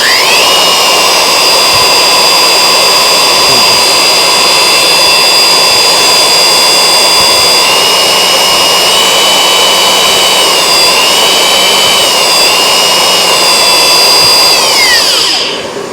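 Wood router fitted with a large-diameter bit, idling at its lowest speed for face cutting on a sled, giving a loud, steady high whine that holds without a break, then shifts pitch slightly before cutting off at the end.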